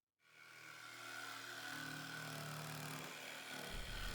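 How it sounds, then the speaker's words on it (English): Cordless DeWalt 20V jigsaw switched on and cutting through plywood, a loud, steady buzzing motor with rapid blade chatter that holds continuously for about four seconds after a quick start. "Alright, let's cut some plywood."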